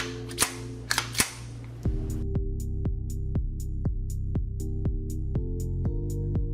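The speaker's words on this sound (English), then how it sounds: "We have to slide it back and forward to ensure the gun oil is everywhere." The slide of a Russian-designed gun is worked back and forth after oiling, giving a few sharp clacks and then a regular series of crisp metallic clicks, close and fairly loud, with no speech.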